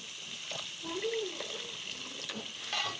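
Water splashes into a pan of frying chicken for chicken karela, setting off a steady hiss and sizzle with a few scraping stirs, close and moderately loud, a voice briefly heard underneath.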